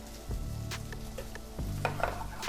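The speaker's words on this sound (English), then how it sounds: "Now, some lemon juice and a stir over here." A spoon stirring lemon juice and olive oil in a dish, soft scraping and swirling strokes, faint and close, with a couple of light clinks.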